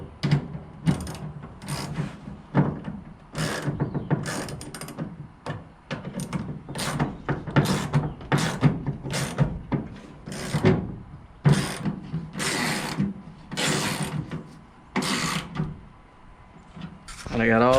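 A ratchet clicks in repeated quick bursts as three bolts are tightened on a 2003-2006 Silverado tailgate handle, the rhythmic strokes close and loud with a person talking intermittently between them.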